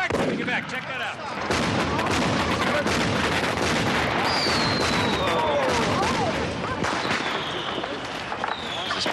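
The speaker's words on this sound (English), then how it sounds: "What happened to our fireworks?" Stage-show fireworks go off in a dense, continuous barrage of loud bangs and crackles, with a few whistling rockets rising through it.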